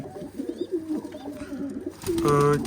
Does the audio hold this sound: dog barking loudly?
no